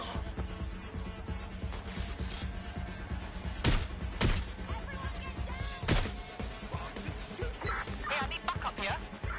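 Gunfire in the video game Watch Dogs: Legion, several sharp shots spread through a busy mix of mechanical clatter and game noise, with voices speaking underneath.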